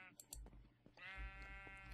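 Sheep bleat in a Minecraft game world, with a short, faint bleat early on and a longer, clearer bleat afterward, mixed with soft clicking.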